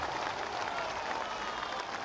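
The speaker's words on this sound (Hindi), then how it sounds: "एक बार जोर से ताली बजाइए" Political rally crowd clapping, a dense, continuous wash of applause from a large audience lasting a couple of seconds without a break.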